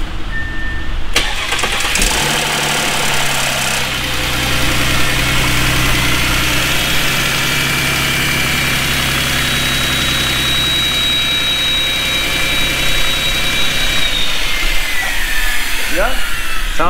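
A Lamborghini Huracan engine cranks and catches, then settles into a loud, close idle with a steady rumble and a brief rise in revs near the end. It plays alone without talk.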